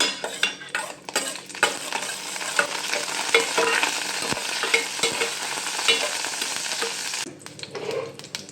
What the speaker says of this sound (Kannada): ಇದಕ್ಕೆ ಸೊಪ್ಪು ಹಾಕ್ತಾ ಇದ್ದೀನಿ